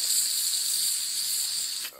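Steam hisses steadily from a hot wood stove in a winter camping tent after snow is shoveled onto it, a loud, even broadband hiss that holds for about two seconds before dropping away.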